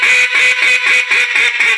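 Blown duck call in slow-fast-slow competition calling style, a run of about seven loud, nasal quacks in a rhythmic sequence, close and alone.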